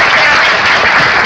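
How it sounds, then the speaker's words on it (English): Steady, close applause from an audience fills a brief moment, honoring mayoral candidates at a local candidate forum, dense clapping without voices. "just some applause for the mayoral candidates again"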